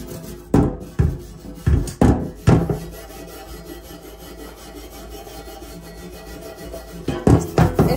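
An old wire brush scrubs greasy stove grates in short, harsh rasping strokes, a cluster of loud scrapes at the start, then quieter rubbing, then more strokes near the end.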